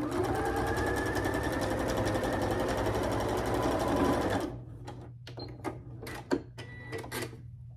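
A sewing machine stitches quilt block pieces in a steady, fast mechanical whir for about four seconds, then stops, followed by scattered faint clicks and handling taps.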